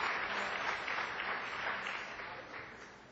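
Church congregation applauding during a Portuguese-language sermon, a steady, fairly distant wash of many hands clapping that gradually fades over a few seconds.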